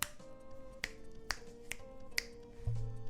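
Fingers snap five times in a slow, slightly uneven rhythm, sharp and close, over a faint background hum.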